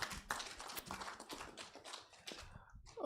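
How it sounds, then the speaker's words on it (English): Audience applause for a panel at a business television event, a steady patter of many hands clapping at moderate distance, fairly quiet, tapering off near the end. "A round of applause for them,"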